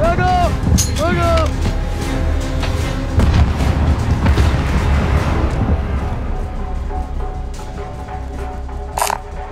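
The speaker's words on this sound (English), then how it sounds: "that was a flashbang and it exploded in the air" A flashbang grenade bursting in mid-air during a Call of Duty match, a loud boom inside constant gunfire and game noise, with other sound effects and chatter layered throughout.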